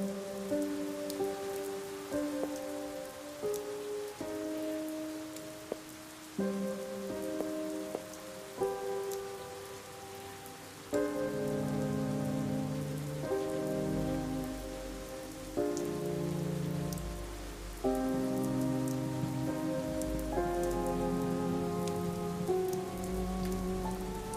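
Steady rain falls in a video game, a constant hiss beneath a melodic game music score that changes character partway through, with no talking.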